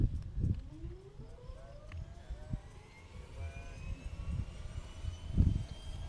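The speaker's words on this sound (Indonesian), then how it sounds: "Ini mulai dihidupin mesinnya." A small Susi Air propeller plane's engine turns over and rises into a steady drone outdoors, with a whine gliding upward over rumbling low thuds.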